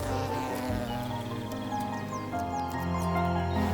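Hornets buzzing in a Jirisan mountain forest, a steady droning hum with some higher chirps layered over it, continuous and fairly close throughout.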